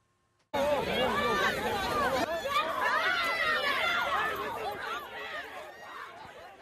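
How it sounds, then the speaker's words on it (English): A protest crowd in New York yells at police officers, with loud overlapping shouting and chaotic babble that rises sharply and fills the scene, then eases off slightly toward the end. "You can hear someone in the crowd yelling disgrace at the officers."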